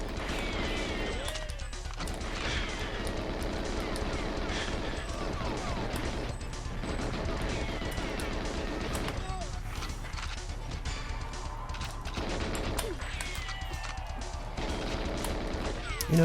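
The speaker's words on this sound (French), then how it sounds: "Une autre grenade." Grenade blasts and gunfire crash repeatedly through a GoldenEye 007 match, loud bursts over a dense, continuous game soundtrack, with someone talking intermittently.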